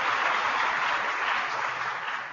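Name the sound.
audience applause for Agriculture Secretary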